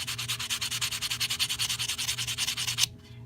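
Wire wrapped around a cabochon is sanded with a buffing block in quick, even back-and-forth strokes, a steady scratchy rasp that stops abruptly near the end, with a low hum underneath.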